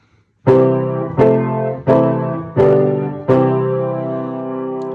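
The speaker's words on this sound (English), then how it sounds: "It's 4 chords just repeated over and over again." Four pop chords struck repeatedly in an even rhythm, each ringing briefly before the next, with the last chord sustaining and fading.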